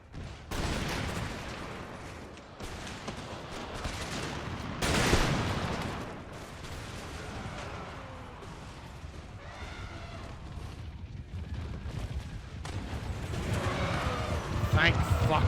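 Canister shot from cannon in the game Empire Total War crashes out in repeated loud booming volleys, with musket fusillades and battle noise throughout as voices talk over it.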